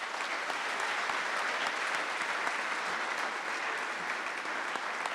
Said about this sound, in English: Please join me in a round of applause for all of these people.